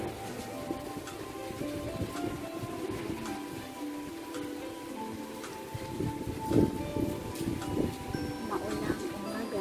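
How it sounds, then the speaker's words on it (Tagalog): Steady rain falls on surfaces during a cloudy, windy morning in Singapore, a faint and continuous patter with scattered drops and gusty background noise throughout. "Maulang umaga dito sa Singapore. Very cloudy, rainy. Ang lakas ng hangin."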